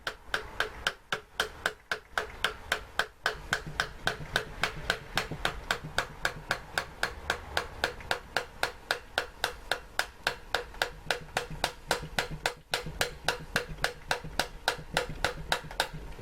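A piston is tapped into the bore of an Austin MG A-series 1098cc engine with a soft hammer handle, pushing it through a ring clamp: a steady run of light, evenly spaced knocks, close and fairly quiet, with no talking.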